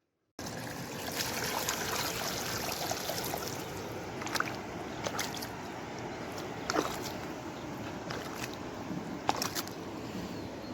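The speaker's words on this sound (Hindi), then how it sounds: "इसमें पानी मैंने 4 बाल्टियां डाली थी और कम हो गया, इसमें और डाल देते हैं।" Water pours in a steady, rushing stream into a container, continuous and fairly close, with a few faint knocks along the way.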